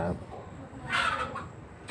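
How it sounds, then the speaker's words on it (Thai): Chickens in a coop beside a frog pen on a rural farm in Isan, Thailand, cluck and squawk in short bursts under low background noise and a voice. "คอกข้างๆนี่ก็เป็นคอกไก่ครับ"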